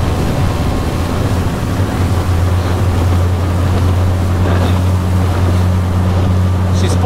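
Skiff outboard motorboat running at full throttle around 20 mph on choppy water in 14 mph winds, a loud steady engine drone with a constant hum, wind buffeting and slapping waves throughout.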